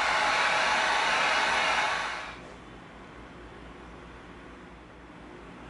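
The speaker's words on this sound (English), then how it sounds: "we're going to get our heat gun ready" A heat gun blows a loud, steady hiss of air to warm and curve the bill of an EVA foam samurai helmet, then cuts off about two seconds in, leaving quiet room tone.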